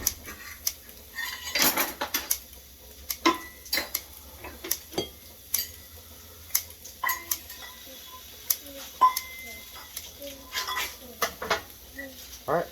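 Bacon is chopped with a knife on a board and mixed into a dish, giving sparse sharp clicks and taps of cutlery and dishes spread out over quiet gaps.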